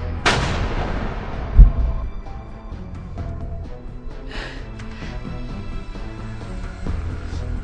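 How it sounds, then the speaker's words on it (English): A single loud gunshot in the final scene of the film Cry Wolf. It cracks sharply near the start and then rings and decays into a low, rumbling background with no one speaking. "You knew I'd shoot him."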